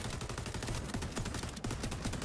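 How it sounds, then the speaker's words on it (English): Gunfire from afar in the XDefiant shooter, a steady run of rapid tapped shots cracking one after another at even loudness for the whole stretch, with no voices. "A little tap fire from afar."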